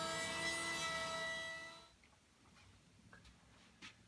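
The edges of a wooden board are rounded over with a power tool: a loud, steady whine runs for about two seconds, then cuts off, leaving faint scattered clicks and handling noises.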